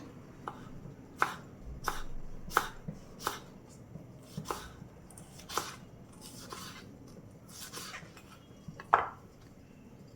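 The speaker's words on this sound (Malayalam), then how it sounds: "ഇതേപോലെ നീളത്തിൽ നമുക്ക് ഈ ക്യാബേജ് മുഴുവൻ അരിഞ്ഞ് കൊണ്ടുവരാം" Knife chopping cabbage into long thin strips on a board, about a dozen sharp, irregular cuts spread over ten seconds, close and clear with no talking.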